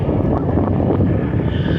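Strong wind buffets the microphone outdoors at a hot rod car tour, a constant low roar gusting slightly with no other sounds standing out.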